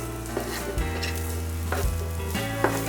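Capsicum stir-frying in a pan for cauliflower Manchurian makes a continuous close sizzle, with a few scraping stirs of the spatula breaking through now and then.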